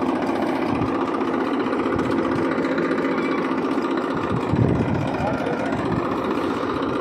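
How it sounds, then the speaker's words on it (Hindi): A tractor engine runs steadily at a low, rough idle on a farm field, a constant mechanical chug with a brief swell near the end, while people talk over it. "ट्रैक्टर को चलाओ, जुताई करो सही सही"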